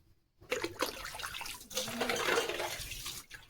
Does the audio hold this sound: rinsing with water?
yes